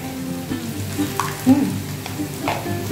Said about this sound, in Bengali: 1 পিঞ্চ মতো কালো জিরে দিলাম। এটা ভাজা হচ্ছে।